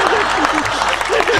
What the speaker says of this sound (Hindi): ये कृपा आप चाहते हो आए तो बजाओ तालियां